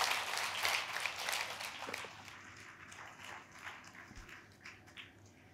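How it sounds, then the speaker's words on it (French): An audience at the Konstantin Katzarov Prize 2023 ceremony applauds, a dense burst of clapping that is loud at first and then thins and fades over several seconds, with no talking over it. "On peut l'applaudir."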